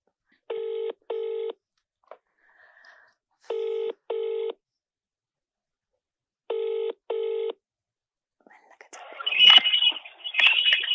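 Telephone dialing tones sound as a call is placed: paired electronic beeps in clean, evenly spaced bursts with silent gaps, followed by a rougher burst of line noise at the end.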